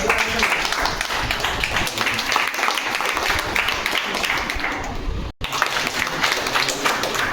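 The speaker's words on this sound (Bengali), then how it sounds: "জোরে হাততালি হোক।" Vigorous clapping from an audience at a Malda district marketing management meeting, a thick steady wash of applause lasting several seconds with a momentary gap near the end, some voices faintly mixed underneath.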